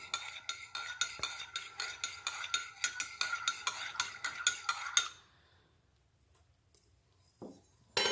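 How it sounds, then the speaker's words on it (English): A spoon from a German cutlery set clinks rhythmically against a metal dish while stirring a ration meal, rapid regular scrapes and taps for several seconds, then it stops, leaving near silence broken by a couple of faint knocks. "Now, since I got this from Drew, I'm going to use the cutlery set I got from him a while back. My German cutlery set"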